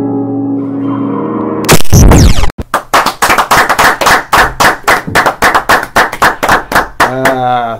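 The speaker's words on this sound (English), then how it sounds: "I don't deserve the applause alone." An audience claps in a loud, evenly spaced run of sharp claps lasting several seconds. A burst of noise comes before it, and a voice is heard briefly at the start and at the end.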